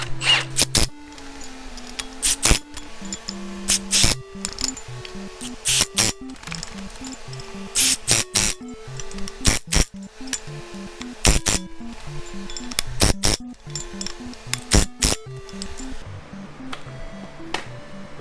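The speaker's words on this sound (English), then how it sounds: "So now I'm just gonna zap these 17s back on." Impact wrench fastening 17 mm lug nuts onto a Land Cruiser 100 series hub, a series of sharp, loud rattling bursts repeated one after another with short pauses between, close up.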